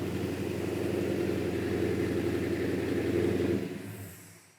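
A car engine with solid lifters idles steadily, its ticking valvetrain rattle running under a low, even hum before the engine is shut off and the sound dies away near the end.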